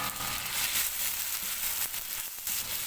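Tomatoes hit a hot frying pan while sautéing bottle gourd, giving a steady, close, broadband sizzle and crackle that holds for about three seconds with no talk.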